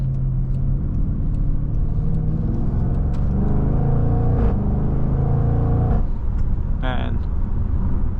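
A 2023 Jaguar F-Pace SVR accelerates hard, its engine a steady loud rumbling drone heard from inside the cabin, rising in pitch across several seconds with a brief shift-like break near the end.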